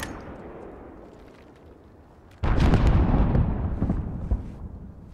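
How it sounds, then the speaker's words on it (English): Mortar fire in Call of Duty Modern Warfare: a sudden loud explosion after a quiet stretch, followed by a rumbling, crackling roar of debris and a second sharp thump, with no voices over it. "There's still a mortar."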